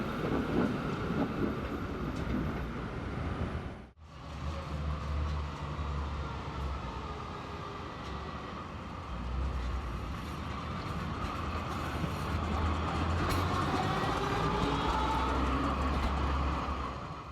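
A Brussels tram rolls into the Constitution tunnel heading toward the station through a ramp no longer used in regular service, a steady loud rumble with rail clatter and squealing that briefly dips, then swells and continues.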